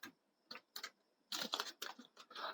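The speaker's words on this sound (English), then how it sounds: "probably my typing speed is not that fast, and actually I'm using my laptop" Quiet laptop keys clatter in short irregular bursts of clicks, close and soft, with brief pauses between groups of keystrokes and no talking.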